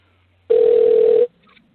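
A single ringback tone on an outgoing telephone call, one steady loud tone lasting under a second, then quiet.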